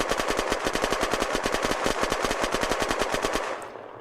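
A Zubeknakov automatic rifle fires in Unturned, a rapid, even burst of dozens of close, loud shots that stops abruptly after a few seconds, leaving a brief fading tail.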